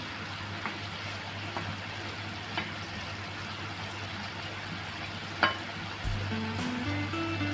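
Mixed vegetable bhaji for a Maharashtrian panchras recipe sizzling and frying steadily in a pan, a soft continuous crackle with a few small clicks and a low hum joining near the end.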